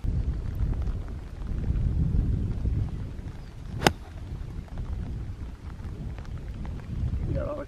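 Steady rain pours down on a golf course in Northern Ireland, a dense close hiss with one sharp crack partway through, with no voices heard.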